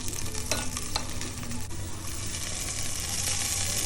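Cooked rice stirred into a pan with soy sauce, vinegar and a little water for egg fried rice, a close steady sizzle with a few early clinks and scrapes of the spoon, then a smoother bubbling hiss.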